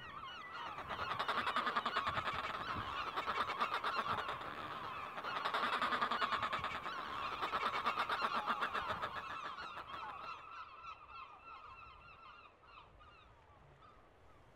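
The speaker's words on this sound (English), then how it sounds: "Fulmars have a very unique sound." Fulmar seabirds, pigeon-sized relatives of the albatross on the Isle of May, give harsh, cackling, goose-like calls in a dense, continuous chorus that swells and fades, loudest early on and thinning toward the end.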